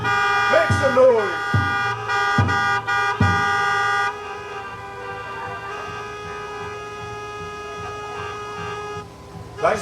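A car horn blares in repeated long honks at a rally, then holds a steady sustained tone, with other horns overlapping at a distance.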